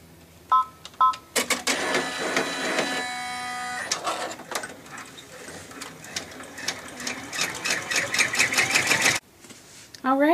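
Sewing machine stitching down a fabric bow on a zipper pouch, running in bursts of rapid mechanical whirring and clatter, close and loud, with a brief pause before a final short run.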